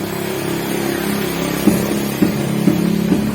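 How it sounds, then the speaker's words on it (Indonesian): Rough, gritty noise from the worn rear wheel of a Mitsubishi L300 diesel being turned by hand, a steady grinding drone with a few sharp knocks recurring near the end. "Ternyata untuk sumber suara kasar di bagian belakang itu sumbernya dari bagian roda."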